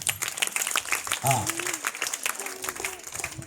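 Students at a government high school in I. Polavaram clap together in a quick patter of many hands, while a voice carries over the applause.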